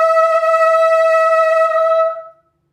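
A single high, bright saxophone note in the altissimo register with fast, wide vibrato, held steadily and loud for two seconds, then stopping.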